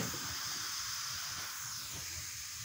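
A steady, close hiss of steam escaping from a pot, constant and fairly quiet, with a faint low rumble beneath.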